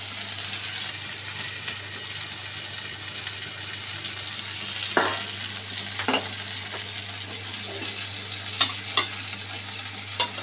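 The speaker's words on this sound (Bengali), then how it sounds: "এবার ভালো করে কষিয়ে জল দিয়ে দেবো।" Curry with green chillies and chilli powder sautéing in a pan, a steady low sizzle beneath a constant hum, with intermittent scraping stirs and a few sharp spoon clicks toward the end.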